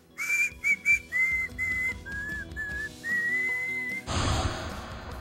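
Melodic whistling carries the tune of a played song in short phrases over a soft instrumental backing, before a brighter burst of full band sound takes over at the end.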